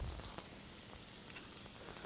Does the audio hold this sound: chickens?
no